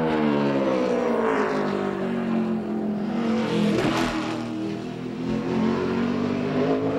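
A brand new NASCAR Nextel Cup race car at full throttle on a qualifying lap in 2004 for the Advance Auto Parts 500, its engine a loud, sustained roar with shifting pitch as it sweeps close past midway through.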